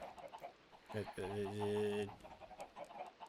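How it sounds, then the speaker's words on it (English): Chicken ambient noises from a Minecraft modpack, All The Mods 10: short clucks around a louder, sustained crow in the middle, heard fairly close and alone. "Chicken ambient."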